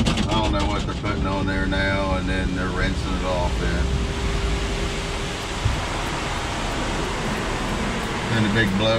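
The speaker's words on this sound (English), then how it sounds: "Then the big blowers turn on and it dries the heck out of it, blows it real hard" Big car wash blowers roar steadily while drying a truck, a loud, broad rushing drone that continues throughout as someone talks over it.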